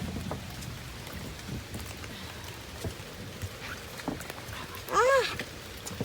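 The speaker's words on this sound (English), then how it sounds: "Summer thunderstorm." Summer thunderstorm rain falls steadily outdoors, a soft continuous hiss of drops on surfaces at moderate distance, with a brief higher vocal sound near the end and people murmuring faintly in the background.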